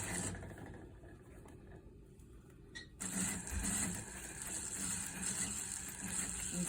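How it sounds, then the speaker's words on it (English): An automatic single-needle sewing machine with a thread cutter and a foot pedal gives a soft, low hum at first, then whirs noticeably louder and busier about halfway through, fairly quiet overall with no talking. "This is an automatic single needle, so it does the cutting of the threads when you're finished."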